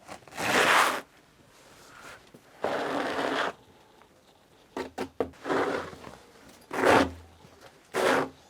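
Snow being scraped off a bonsai table outdoors in winter: a series of rough, gritty scraping strokes, some long and some short, close and fairly loud with quiet gaps between them.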